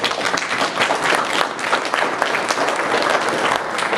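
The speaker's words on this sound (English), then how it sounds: "don't tell my dad you guys clap in church" Large church congregation clapping loudly and continuously, a dense, even roar of applause with crowd noise that holds for several seconds without a break.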